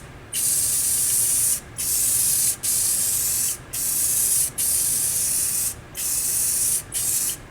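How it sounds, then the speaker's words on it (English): Spray gun applying one wet coat of paint to an arcade cabinet during a restoration, close and loud, in repeated long bursts of steady hiss separated by brief pauses. "if you spray it and it has that dusted look, it's going to dry with that dusted look"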